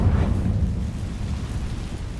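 An Incendio fire spell is cast in a Harry Potter game, giving a low, whooshing rumble of flame that is strongest at the start and settles into a steady roar.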